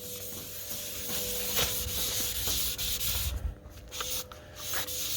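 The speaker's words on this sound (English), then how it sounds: "So we got some wet sanding ahead of us." Wet sanding on a motorcycle's painted bodywork in a garage, a close, continuous rhythmic rubbing and scraping with brief pauses between strokes.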